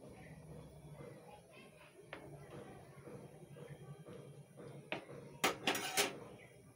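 Mung dal with pumpkin is stirred in a wok, giving quiet scraping and clinking of a spoon against metal. The sounds grow louder in a few sharp clatters near the end, with faint voices in the background.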